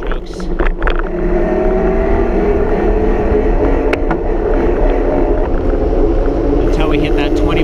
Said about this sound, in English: You can hear the motor responding to my pedal strokes.